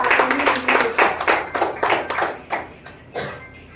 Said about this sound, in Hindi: तो जोरदार तालियों के साथ